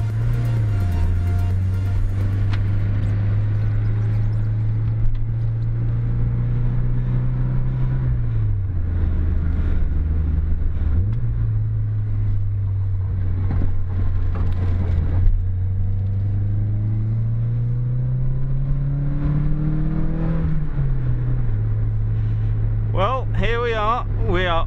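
A Toyota AE86 Trueno climbs a mountain pass on Mount Haruna, its engine a steady, close droning hum whose pitch rises and falls with the throttle throughout, with a brief voice near the end.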